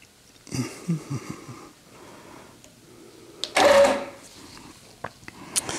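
On a longarm quilting machine, the bobbin thread is brought up with a short mechanical whir amid quiet clicks and handling noises around the quilting frame.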